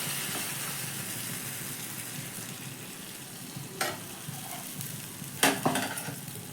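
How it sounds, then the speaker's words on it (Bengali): Batter is stirred for a healthy tiffin snack, a soft steady sizzle running throughout with a couple of brief scraping clinks near the end. "প্রত্যেকবারই ব্যাটার দেওয়ার সময় ভালো করে একটু ওপর নিচ মিশিয়ে নিতে হবে।"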